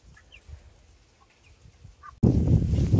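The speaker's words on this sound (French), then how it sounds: "Donc là on a les poules azur, alors elles nous ont vu arriver" Azur hens give a few faint, scattered clucks and chirps at a distance over a quiet background, then a sudden loud burst of rustling noise takes over.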